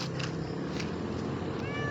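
A stray cat meows outdoors in the dark, a single faint cry under steady background noise and hum.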